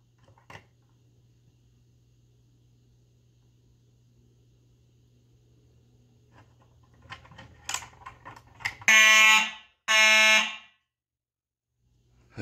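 A Simplex fire alarm sounds during a walk test, giving two loud, sharp bursts near the end, each about a second long. Light clicks and tapping come before them after a long, quiet stretch.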